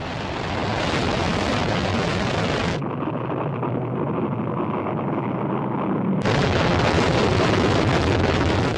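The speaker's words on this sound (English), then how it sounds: "On the 24th of January 1990, a rocket was sent to the moon." A Japanese rocket launches toward the moon in January 1990, a loud, continuous broadband roar that dips briefly in the middle and then surges back at full force.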